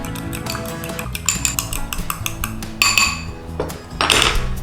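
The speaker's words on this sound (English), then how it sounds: "So just give that egg a little beat up in there." An egg being beaten with salt in a bowl, rapid rhythmic clinking of a fork or utensil against the bowl, close and fairly loud, pausing briefly between bursts.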